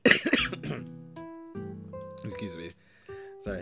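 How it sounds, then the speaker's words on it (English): Someone coughs and hacks up phlegm from allergies, a few harsh wet bursts close to the mic, mixed with voiced, tonal throat noises and short pauses. "I just coughed up a whole bunch of phlegm"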